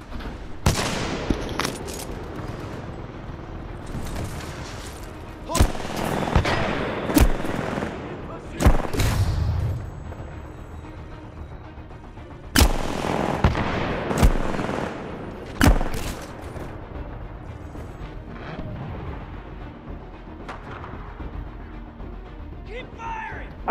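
Gunfire in the shooter video game Titanfall 2: sporadic loud bursts of automatic fire and single shots, separated by quieter stretches of game ambience, with a few rapid volleys clustered in the middle.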